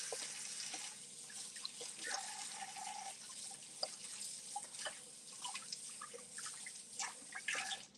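A tap runs faintly while hands are washed at a sink, a soft steady trickle with scattered drips and splashes heard from some distance.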